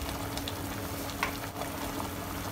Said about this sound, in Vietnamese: Canh sôi rồi các bạn.